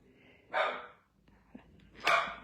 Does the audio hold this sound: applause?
no